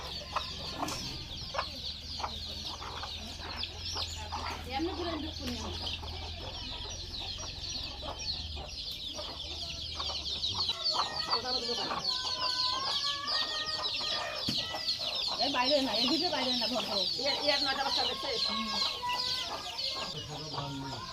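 Chickens and chicks cluck repeatedly nearby in soft, scattered bursts. A person speaks intermittently over them.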